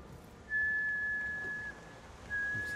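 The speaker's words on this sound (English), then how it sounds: "what's that whistling?" Eerie whistling in the video game Dishonored 2: a thin, sustained single-pitch whistle holds for over a second, breaks off, then starts again, faint over a quiet background.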